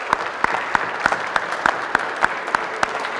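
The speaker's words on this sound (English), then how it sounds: "So let's give these adults a nice round of applause." Scattered applause for adults at a high school class of 2020 pinning ceremony, with several distinct sharp claps standing out at a regular beat above a softer crowd clapping.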